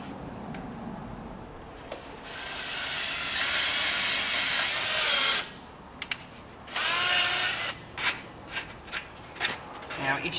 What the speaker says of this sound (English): carefully drilling it there.